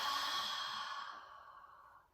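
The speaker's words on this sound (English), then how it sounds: "as you exhale, open your mouth, blow the breath out" A single long exhale blown out through an open mouth during yoga breathing, a soft breathy sigh that starts fuller and fades away over about two seconds, close and alone.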